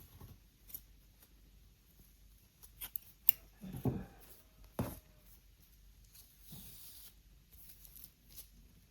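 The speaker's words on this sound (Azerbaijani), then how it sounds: "ipimi kəsirəm" Crochet yarn being cut with scissors, a few faint, close snips and rustles scattered among quiet handling noises, with a louder snip near the middle.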